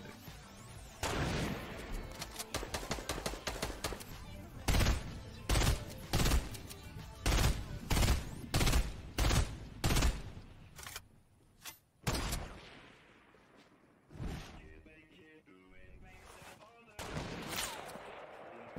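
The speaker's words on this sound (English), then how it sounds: "Why is he shooting at me for?" Repeated bursts of Fortnite gunfire, with AR fire in rapid volleys and single cracking shots, fairly close. Clusters of shots come at an uneven rhythm and trail off near the end, while players talk over part of it.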